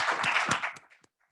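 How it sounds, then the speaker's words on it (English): Short burst of audience applause at a panel discussion, a dense patter of hand claps that thins out and stops within about a second. "I just want to give them applause"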